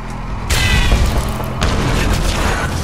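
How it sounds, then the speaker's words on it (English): A grenade explodes in the Zombie Army Trilogy zombie-horde survival game, a loud, close boom that swells suddenly, then a second burst follows amid sustained rumbling battle noise. "Give him a grenade to play with."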